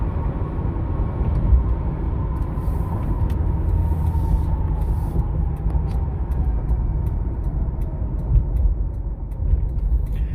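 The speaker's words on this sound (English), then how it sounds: "you can hear all the noise from the motor, the transmission, the driveline and stuff like that because there's no insulation" A 2009 Ford Crown Victoria P71 police-package sedan with about 157k miles, driving with a steady loud drone of motor, transmission and driveline noise filling the cabin, continuous and unbroken with no talking.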